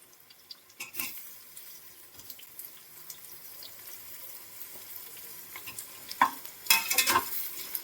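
Tomatoes being stirred into onions frying in a pan for seeraga samba mutton biryani, with a soft sizzle under occasional close clinks and scrapes of a spoon against the pot.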